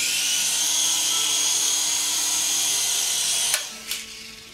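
Rotors of a Syma S111G toy helicopter whine steadily and loudly up close, one spinning less freely than it should, then cut off with a couple of brief clicks near the end.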